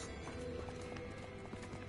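Centaur hooves clip-clop at a quick, running pace in the video game Hogwarts Legacy, fairly soft beneath a continuous game soundscape.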